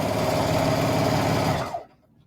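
A sewing machine stitches quilt squares for a log cabin block, running in one steady, close burst of rapid needle clatter and motor hum before stopping abruptly.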